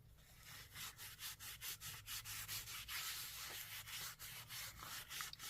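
Faint, rhythmic rubbing strokes of paint being wiped off a painted surface with a wipe, about a dozen steady back-and-forth passes close by with no voices.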